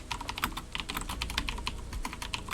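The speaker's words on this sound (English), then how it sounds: "I know a lot of people love the sound of the keyboard." Steady, fast typing on a computer keyboard, dense clattering keystrokes heard up close and continuously with no voices over them.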